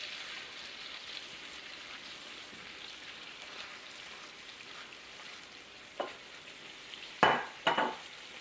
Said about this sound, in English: So now it's boiling, so I'm going to turn it down and I'm going to keep it moving.